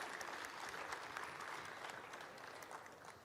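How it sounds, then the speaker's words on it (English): Audience applause for the performers at a hybrid Republic Day celebration, a steady, even patter of many hands clapping that stays faint and distant throughout. "give just a huge round of applause for all of the performers that came out today"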